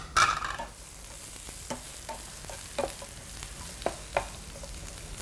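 Vegetables are stir-fried in a hot pan with garlic, a steady sizzle running throughout, punctuated by several sharp scrapes and clacks of a spatula tossing the food.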